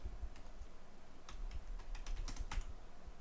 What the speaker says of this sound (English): If I go into type in here system info